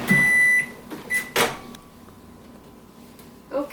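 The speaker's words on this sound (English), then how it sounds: "I'm going to put this in my microwave for 3 minutes" A microwave oven cooking potato planks in a Tupperware MicroPro Grill, with steady beeps of its keypad, a door clunk and a low running hum.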